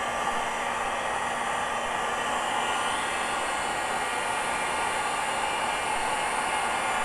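A heat gun blows steadily while shrinking heat shrink tubing over motorcycle stator wires, a constant loud airy whoosh with a faint motor hum, unbroken from start to finish.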